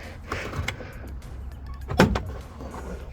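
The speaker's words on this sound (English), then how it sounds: "give it a little tug, and you'll see it clips, pops, sounds scary" Plastic trim clips pop loose as a taillight panel is tugged out of a Nissan GT-R's trunk area: scattered faint clicks and rustling, then one louder sharp pop near the middle, all close by.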